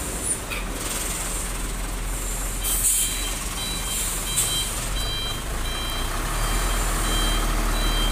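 Cement-loaded truck trailer reversing, a steady series of evenly spaced reversing beeps over a low engine rumble, with a faint hiss of air brakes partway through.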